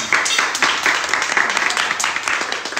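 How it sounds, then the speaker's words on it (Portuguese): Clapping in a lively indoor gathering, a run of close, uneven handclaps carrying steadily through the clip, with excited voices mixed in underneath. "Palmas pra ele"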